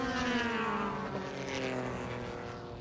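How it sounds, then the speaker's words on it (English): A Porsche race car at Sebring during a seven-hour endurance race brakes into a turn, its engine a loud sustained drone whose harmonic tones slide downward in pitch as it slows over a few seconds. "That Porsche showing some muscle here down into the braking zone at turn number 10."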